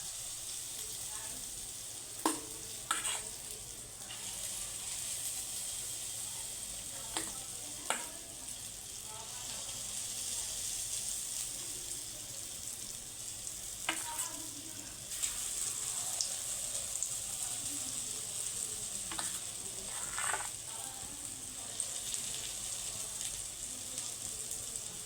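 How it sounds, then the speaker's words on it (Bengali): Lentil fritters (bora) deep-fry in hot oil with a steady, moderate bubbling hiss, broken by a few spoon clinks against the pan. "আমি এই বড়াগুলোকে সব ছাকা তেলে সবগুলোকে ভেজে তুলে নেব।"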